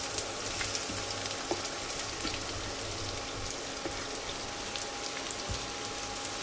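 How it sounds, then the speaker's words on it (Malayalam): Chopped shallots fry in hot sesame oil over a low to medium flame, producing a faint, even hiss of sizzling with a few small pops and no talking. "അതിലേക്ക് അരിഞ്ഞു വെച്ചിരിക്കുന്ന ചുവന്നുള്ളി ചേർക്കാം."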